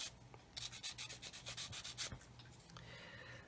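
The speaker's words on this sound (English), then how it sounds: "I can get my sanding sponge and sand over the, whoops, that's broken. Sand over the round parts." A sanding sponge rubs quickly back and forth over plastic parts from a 1/32 Airfix Humber model kit, making soft, close, rhythmic scratchy strokes in a quiet room.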